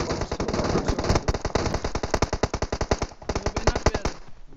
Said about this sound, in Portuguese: Esse tiro tá vindo mais da rua, eu acho, se não me engano.